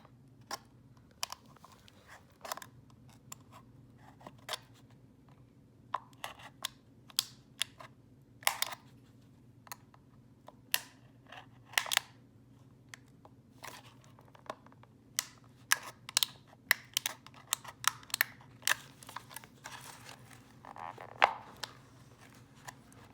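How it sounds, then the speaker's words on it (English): An X-Acto knife cuts along drawn lines for a model airplane in a string of quiet, irregular ticks and scrapes, close and soft over faint background hum, with no talk. "I'm going to just get my cut lines there. And once again, very carefully, utilizing your X-Acto knife."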